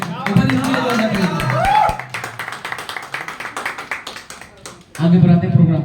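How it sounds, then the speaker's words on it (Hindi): Applause and clapping break out from a crowd at an open mic for poems, stories and songs, mixed with voices and music, swelling again loudly near the end. "ऊपर इसलिए जोरदार तालियां"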